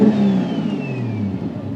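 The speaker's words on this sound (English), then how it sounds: "Can I give it a couple revs?" A 700hp Nissan R33 GT-R with sequential shifting revs up nearby, a loud, sustained engine roar that climbs and then eases off, with no talking over it.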